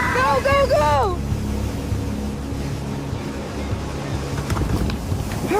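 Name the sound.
rushing floodwater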